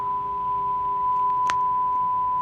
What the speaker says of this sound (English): got a test tone going here, 400 hertz.